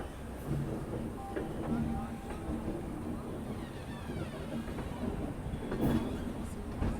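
A passenger train runs through rural Uttar Pradesh near Kanpur, its steady rumble and rattling carriages heard from inside under continuous background chatter, with occasional louder clanks.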